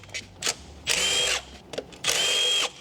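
A power tool removes bolts from a coolant pipe in two close, whirring bursts of about half a second each, separated by brief clicks and handling noises.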